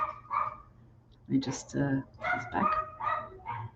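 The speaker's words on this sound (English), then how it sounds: "Apologies for the dog." A dog barks several times in a rapid, irregular series of sharp yaps close to the microphone, while someone talks over it.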